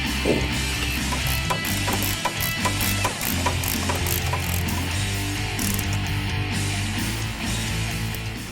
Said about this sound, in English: Once all four are installed, now we can tighten them down.